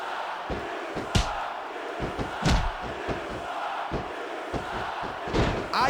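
Crowd roar from an arena wrestling match in the video game WWE Smackdown vs. Raw 2006, a 30-man Royal Rumble, with a steady wash of crowd noise punctuated by sharp slams, thuds and cries.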